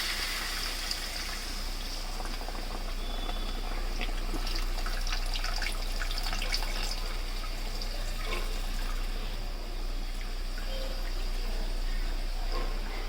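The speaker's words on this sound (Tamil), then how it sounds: "இந்த பாருங்க, புளி தண்ணி ஊற்றுறோம்," Tamarind water poured into a simmering fish curry, a soft continuous splashing trickle of liquid heard up close and fairly quiet, with no talking.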